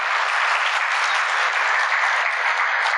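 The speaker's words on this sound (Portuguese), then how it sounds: "Vamos dar uma salva de palmas para os pais?" An audience applauds fathers at a Father's Day gathering, a steady, dense wash of clapping that holds at even loudness for about three seconds with no talking over it.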